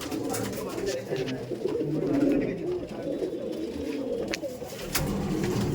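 Pigeons in a loft coo steadily in low, throaty murmurs that overlap into a continuous rolling hum, with faint background commotion and a few brief higher chirps.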